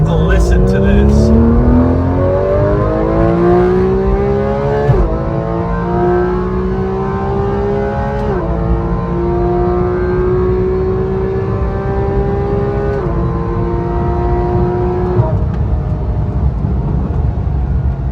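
A $200,000 Porsche GT3 RS engine revs hard through rising gear pulls, each climb in pitch broken by quick upshifts, loud and close with a steady, sustained roar throughout.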